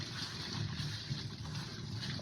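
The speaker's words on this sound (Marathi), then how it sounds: "स्वच्छ पाण्याने धुवून घेऊ" Chopped chillies, coriander and small tomatoes being washed in clean water in a home kitchen, a soft continuous slosh and trickle close by, faint and steady, with no talk over it.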